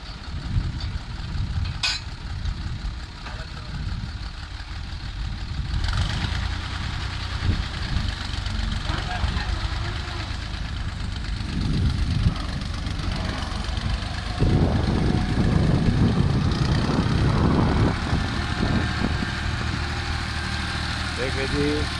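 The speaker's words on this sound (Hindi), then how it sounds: "देख लें कि पानी के अंदर ट्रैक्टर को चलाया जा रहा है" A tractor engine chugs and idles steadily nearby while running through a flooded paddy field, growing a little louder toward the end, with people talking over it.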